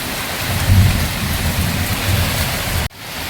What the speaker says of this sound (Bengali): প্রচণ্ড বৃষ্টি যেরকম হচ্ছে সেরকম ঝড়